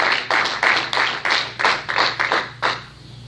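A church congregation claps hands in a steady, fairly quick rhythm of about a dozen sharp beats, close and lively, ending after roughly three seconds with no voices over it.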